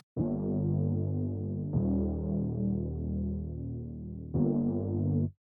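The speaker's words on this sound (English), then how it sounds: "Next there is the build bass," A deep, droning synth bass holds sustained chord tones, shifting pitch in three long sections, steady and throbbing with no other sounds.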